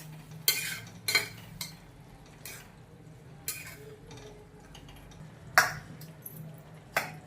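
A utensil stirs paneer bhurji made with grated paneer in a pan, giving soft, scattered clinks and scrapes every second or so over a low steady hum, with no talk.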